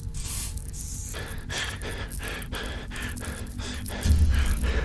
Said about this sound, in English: It looks like Chica needs another dose of the chemi spray.